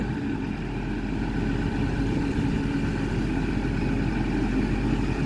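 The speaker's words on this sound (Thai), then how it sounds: "เสียงรถจ้ะเสียงรถ" A car engine idling steadily with a low, continuous rumble that holds constant throughout, no voices.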